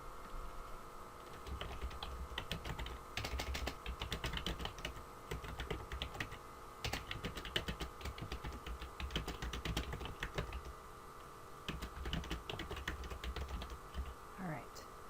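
Typing on a computer keyboard, a quick steady stream of light key clicks with short pauses, close and fairly quiet, with no talking.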